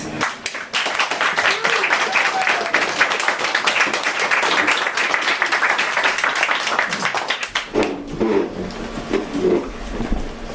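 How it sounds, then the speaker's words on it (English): An audience at an open-mic night gives a full round of applause, with dense, sustained clapping that tapers off before a voice starts talking. "can we please give a huge round of applause for Penn Fitzgerald"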